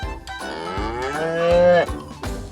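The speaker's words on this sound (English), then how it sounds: "Cow." A cow lets out a long, loud, close moo that rises and sways in pitch, broken by a couple of short breaths and restarts.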